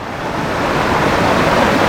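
Rising river water rushes during a flash flood in Dehradun, a loud, continuous roar that builds slightly over the short stretch, heavy and close, with wind buffeting and no talk.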